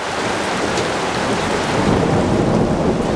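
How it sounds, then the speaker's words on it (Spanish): Heavy rain keeps up a loud, dense hiss over deep rolling thunder that grows through the storm, with no voices. "¿Escucháis los truenos?"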